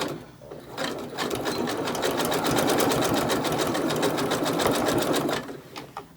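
A sewing machine back stitches along the edge of a terry cloth towel, producing a steady fast mechanical rattle of needle strokes for several seconds before stopping.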